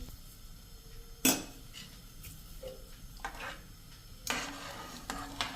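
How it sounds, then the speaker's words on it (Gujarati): Pearl millet khichdi being stirred in a pot over a full flame, with a few sharp spoon-against-pot scrapes and clinks standing out over a quiet background. "અને હવે એને આપણે ફૂલ ફ્લેમ કરી દઈશું અને આ રીતે આપણે એને હલાવીને મિક્સ કરી લેશું."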